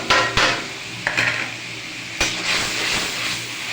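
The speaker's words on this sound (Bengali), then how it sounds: "পেঁয়াজ দিয়ে একটু নাড়াচাড়া করছি" Onions being stirred in a hot pan and sizzling, with a steady frying hiss broken by several sharp scrapes and clinks of a utensil against the pan, close and alone without voices.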